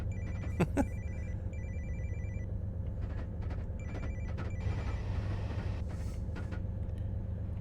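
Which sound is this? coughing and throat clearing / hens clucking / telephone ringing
telephone ringing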